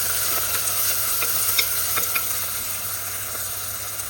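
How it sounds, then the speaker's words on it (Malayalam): Pickle ingredients sauté in a pan with a continuous close sizzle, broken by light clicks and scrapes as they are stirred, over a faint steady hum. "അപ്പോൾ ഇത് നന്നായി നമുക്ക് വഴറ്റി കൊടുക്കാം"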